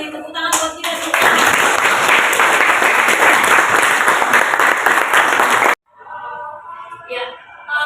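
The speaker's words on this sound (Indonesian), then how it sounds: "Tepuk tangan buat kita semua." High school biology classroom bursts into loud, dense applause from the students, sustained for several seconds before cutting off abruptly, followed by a teacher talking.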